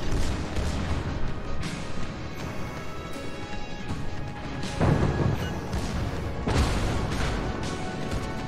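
Torpedoes strike an enemy warship's bow in a naval combat video game, heavy booming explosions and crashing impacts layered over continuous battle rumble, with two especially loud blasts standing out.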